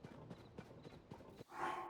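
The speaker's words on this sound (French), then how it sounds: "Cheval tacheté, ça doit être celui-là" Hooves of a spotted horse in the video game Zelda: Tears of the Kingdom clop in a steady rhythmic series of soft thuds, ending with a brighter swell of game sound; moderately faint, no talking over it.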